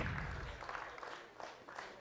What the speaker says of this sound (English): the crowd here giving a round of applause to Sean Lenning